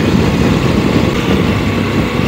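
A CFMOTO 800MT motorcycle from 2022 runs on a test ride, its engine giving a steady loud rumble with constant wind and road noise and no talk.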